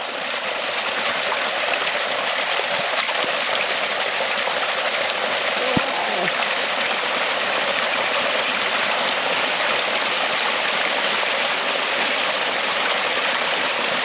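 Water gushing from a newly installed RV park water line, a steady, even rush that stays loud and unbroken throughout with no talk.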